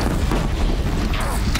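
A mounted cannon fires in Horizon Zero Dawn, a dense continuous rumble of booms and blasts with heavy low-end, loud and close throughout the short burst, while a voice talks in the background.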